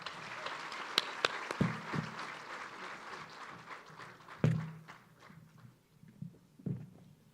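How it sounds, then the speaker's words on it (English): Guests at the INGANJI Class of 2024 graduation ceremony applaud the country director, a moderate, slightly distant patter of clapping with a few sharp knocks and thumps, tapering off toward the end. "Please join me with a round of applause to welcome him."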